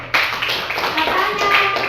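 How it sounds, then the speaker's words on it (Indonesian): A class of students applauds a group in an Indonesian classroom, steady overlapping hand claps from many children that start abruptly and continue throughout, with a voice faintly audible underneath. "kasih tepuk tangan untuk kelompok 1"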